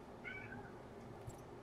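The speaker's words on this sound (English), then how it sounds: "That is my cat." A pet cat meows once, a short, faint meow over quiet background hum.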